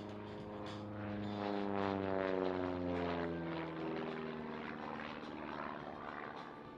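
A DR107 aerobatic aircraft at a flying display, its propeller engine droning loudly with a rising and falling pitch as it dashes past fairly close, with no talking.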